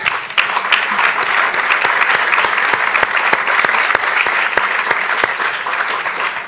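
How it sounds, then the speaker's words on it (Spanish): Loud, sustained audience applause during a talk on taxation, dense clapping with sharp individual claps standing out from the steady roar. "los aplausos a Milton Friedman"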